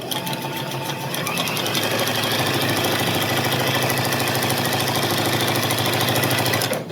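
Sewing machine stitching quilt sections together in one loud continuous run, a fast even chatter of needle strokes with no pause throughout.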